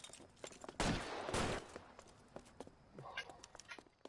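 Gunfire in the crime video game L.A. Noire: a burst of loud shots around the one-second mark, then scattered fainter bangs and game noise over a busy background.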